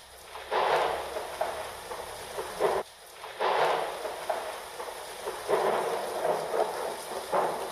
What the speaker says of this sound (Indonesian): Hujan turun sangat deras, sampai seluruh kota terendam air.